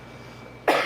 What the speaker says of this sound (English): Oh my god, I'm coughing.